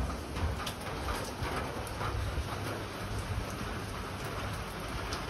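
Steady rain falls continuously and fairly close, a dense even hiss throughout, with faint bird calls in the background and no talking.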